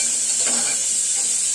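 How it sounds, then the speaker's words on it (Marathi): Chopped onion fries in a pan for moong dal khichdi, a loud, constant sizzle up close with one brief scrape of a spoon stirring through it. "कांदा आपल्याला लाल होईपर्यंत परतून घ्यायचा"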